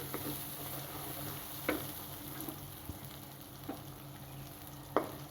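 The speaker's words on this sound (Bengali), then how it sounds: "একটু কষিয়ে নিচ্ছি।" Cumin powder and coriander powder sizzle quietly in a hot pan while a spoon scrapes and stirs now and then, producing soft, irregular clicks over the frying hiss.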